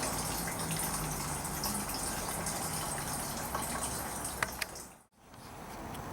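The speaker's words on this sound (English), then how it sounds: "Decent amount of fuel is going to flow out." Fuel from a 2011 Mustang GT drain valve gushes steadily into a container, a continuous close pouring hiss that cuts off abruptly near the end before a softer trickle resumes.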